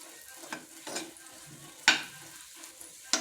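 Small banana pieces frying in ghee in a pan for a Kerala banana-egg snack: a soft, low sizzle broken by a few sharp spatula scrapes and clinks against the pan, with no voices.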